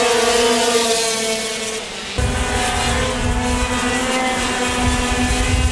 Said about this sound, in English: The SA go-kart track saw a total of 9 classes of racing over the 3 days